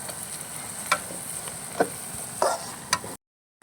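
Onions cook in oil until browned, a soft steady sizzle broken by four distinct clicks of stirring against the pan, then the sound cuts off abruptly.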